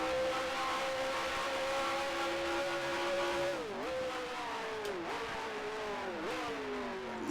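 Racing car in the Grand Prix Legends sim game accelerating hard out of the final turn toward the start-finish line, a loud, steady engine whine climbing in pitch, briefly dipping at each of three gear shifts before rising again.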